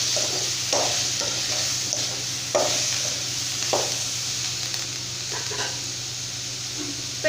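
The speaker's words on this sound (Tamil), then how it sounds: "இப்போ இது எல்லாமே சேர்த்துட்டு நல்லா வந்து வதக்கிக்கலாம்." Drumstick curry with salt and other ingredients sautéing in hot oil in a pan, a steady sizzle with repeated stirring scrapes, close and alone.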